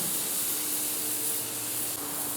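A New York strip steak on a grill gives off a steady, even sizzle that hisses continuously at close range, with no voices over it.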